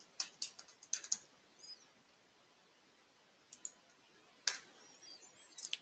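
Bursts of clicky keystrokes on a computer keyboard, close and crisp, come in quick clusters with pauses between them over a quiet office background.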